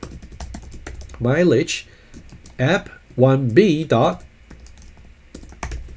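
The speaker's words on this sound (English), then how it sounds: "let me just type properly." Quick clicks of typing on a computer keyboard during a Java programming tutorial, sharp keystrokes scattered between and under a man's speech.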